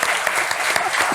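Audience clapping at a live business talk on accounting services, a dense, steady burst of applause from a crowd, loud and close with no voices over it.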